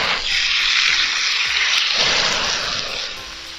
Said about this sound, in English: Wait for the sizzle.